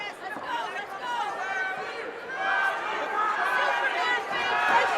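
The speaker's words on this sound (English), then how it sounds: "The crowd comes alive chanting for hometown favorite Riley Timmons." A loud arena crowd at the Front Street Fights 16 combat event chants for hometown fighter Riley Timmons, voices swelling together in a sustained roar with mixed chatter underneath.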